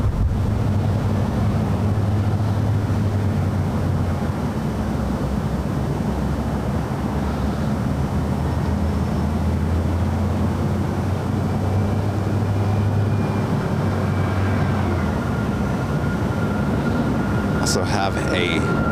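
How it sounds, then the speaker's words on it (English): Aeromexico Dreamliner jet taking off from runway 7 left at LAX in stormy weather: a steady, loud, low engine roar with a rising whine, while a person talks over it. "we got Aeromexico Dreamliner taking off on 7 left"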